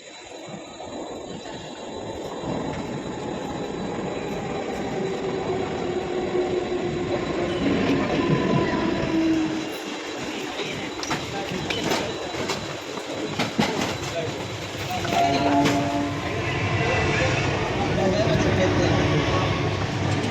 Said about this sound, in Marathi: आपली ट्रेन सुद्धा आली आहे